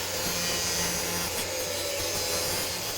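A tool plunges through the thick plastic grille of a Lexus GX460 bumper, giving a steady, close, continuous grinding and rasping cut that holds for the whole stretch without talk.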